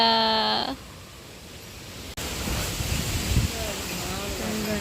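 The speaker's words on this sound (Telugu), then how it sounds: "గాలి" Wind gusting against the microphone outdoors, a steady broadband rush that drops briefly, then returns louder and continues with voices and other background sounds over it.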